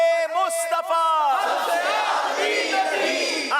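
A crowd at a Pakistani quiz show chants religious slogans in unison, loud, sustained voices that swell together after a single leading call.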